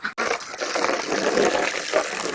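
Water gushing steadily into a whiskey barrel trough on a farm, a continuous close splashing fill sound running unbroken apart from one brief dip near the start.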